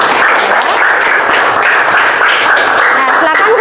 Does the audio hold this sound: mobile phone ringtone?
no